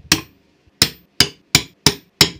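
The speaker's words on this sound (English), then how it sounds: "I am just going to use a little center punch and just give these a little section for the drill to sit in." A hammer taps a small center punch to mark drill holes, giving six sharp, close metallic strikes, the first alone and the rest in a fairly even rhythm, each ringing briefly before silence.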